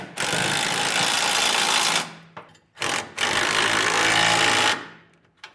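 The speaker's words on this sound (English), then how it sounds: "you want to do all the bolts that are attaching our center section to our crossmember rails. So I have a 3/4 inch socket and wrench." An impact or power wrench with a 3/4 inch socket drives hitch bolts into crossmember rails on a 2016 Chevrolet Silverado fifth wheel install, loud close rattling bursts of about two seconds each, with a short pause and a blip between.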